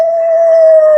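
A very large howl, one steady sustained tone held for about a second, loud and close with no change in pitch.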